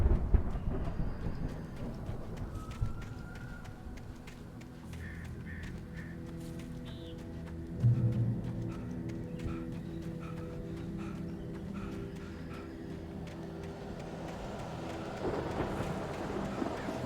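Thunderstorm in the video game Alan Wake: low rolling thunder rumbles and crackles come in waves over a dark ambient bed with scattered rain-like ticks, swelling loudest around the middle and again near the end.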